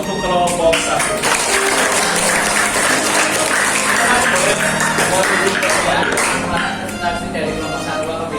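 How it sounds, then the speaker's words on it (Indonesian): Applause for group 1 at a school coaching session, steady clapping from a roomful of people that runs evenly for several seconds, with voices mixed in underneath. "Akan berikan aplaus untuk kelompok 1."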